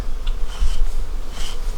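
A close, continuous hum rises from the many bees in an opened hive during a fall inspection, with individual insects zipping loudly past the microphone.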